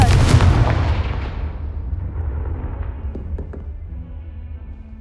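A booming blast from the Confringo spell in Hogwarts Legacy hits loud and close at the start, then trails off in a long rumbling decay with scattered faint debris sounds.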